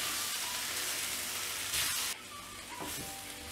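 Masala with chili powder fries in oil for a prawn and quail egg kuzhambu, producing a continuous soft sizzle that dips slightly partway through as the pan is stirred.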